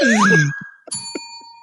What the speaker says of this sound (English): I've got bells, and literal bells and whistles.